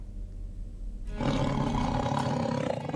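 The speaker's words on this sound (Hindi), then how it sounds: "दुनिया के सैलानी एमपी के बाघों की दहाड़ के दीवाने हैं" A tiger in Madhya Pradesh lets out a deep, loud roar that swells after a low rumbling start and carries on strongly to the end.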